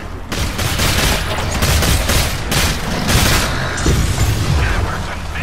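An orbital barrage air strike called in by the Support class in the game Evolve pounds down as a dense, continuous volley of loud booming blasts and rapid gunfire-like impacts, with no pauses between hits.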